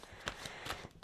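Soft papery riffling of an old, decades-worn oracle card deck being shuffled by hand, a few brief close bursts of card noise in quick succession.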